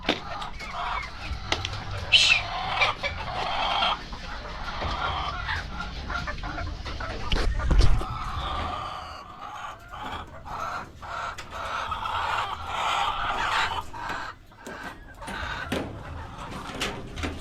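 Several chickens cluck and squawk nearby at feeding time over a rustling, busy farmyard background, with occasional louder calls and shuffling noises.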